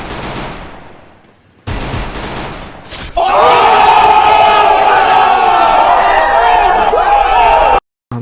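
Rapid pistol gunfire from a G18 in a shooting video game, a dense sustained burst of shots that rises loud after a quieter opening, with crowd-like game noise and a brief cutout near the end.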